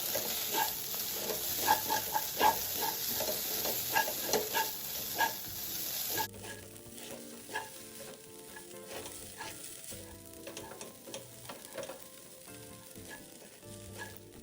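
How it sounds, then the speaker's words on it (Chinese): Rice vermicelli (bee hoon) stir-fried in a wok with fish sauce, pepper, oyster sauce and sugar makes a steady sizzle with repeated close scraping and tossing clatters of the spatula, the hiss softening partway through. "一起拌炒均匀"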